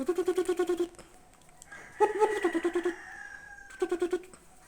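A rooster showing off gives rapid bursts of clucking, several quick rhythmic calls in three clusters with a brief squawk between, fairly close over a quiet background.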